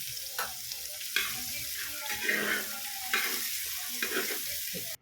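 Shallots crackle and sizzle in hot oil while a spatula scrapes and stirs the pan, close by with uneven bursts of spattering.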